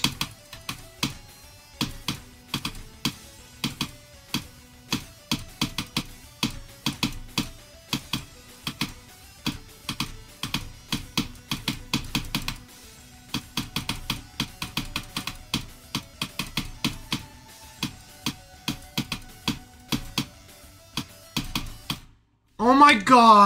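Rapid clicking of computer keyboard keys pressed during a video game session, steady bursts of tapping and clacking throughout, fairly close, with a brief louder burst of other sound near the end.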